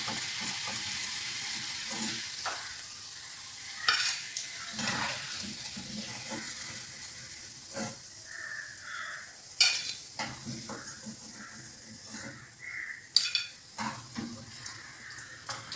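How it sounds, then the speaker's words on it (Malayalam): Aval sukhiyan sizzle and bubble as they fry in hot oil, a steady hiss broken by scattered stirring scrapes and clinks in a kitchen. "ഇതൊന്ന് നന്നായിട്ടൊന്ന് അതിനകത്ത് മുക്കി ഒന്ന് വറുത്തെടുക്കാം."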